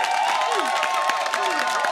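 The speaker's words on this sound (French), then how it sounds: "Allez, reprenez-moi ces applaudissements que je sens." Audience at a church choir TV show applauds with dense, continuous clapping, while a few voices cheer and call out over it.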